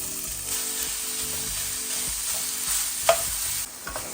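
A pound of breakfast sausage sizzles and fries steadily in a hot skillet, a continuous close crackle with occasional stirring scrapes and pops, no voices.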